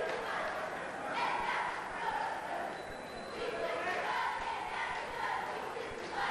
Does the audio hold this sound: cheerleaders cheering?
yes